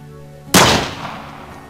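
A single sharp gunshot in Minecraft on a Last of Us map, a loud close crack that decays into a brief echoing tail over a faint background hum.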